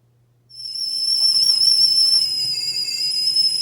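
Tea kettle on a stove starting to whistle, rising suddenly from near silence into a loud, steady, high-pitched tone that holds without break.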